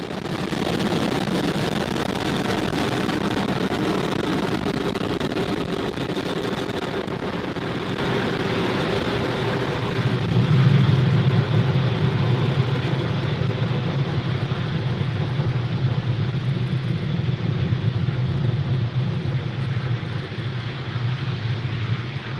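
A SpaceX Falcon 9 rocket climbing after liftoff on a Starlink launch, a distant, continuous low rumbling roar with wind-like rushing that swells slightly midway.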